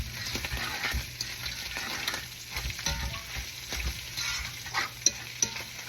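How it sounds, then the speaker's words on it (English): Gravy thickener being stirred into a sizzling pan for southern-style biscuit gravy, a soft steady fizz under scraping spoon strokes and occasional clinks, close and moderately quiet. "So we're just gonna stir that in until it melts."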